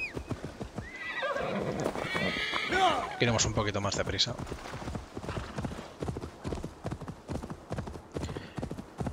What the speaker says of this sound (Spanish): Vamos a llamar al caballo.